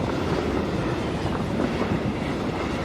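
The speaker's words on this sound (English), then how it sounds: "Oh, I'm hearing a train." A train rumbles past in the battle royale game PUBG. A steady, dense roar holds throughout with no speech.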